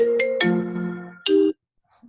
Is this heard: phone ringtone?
yes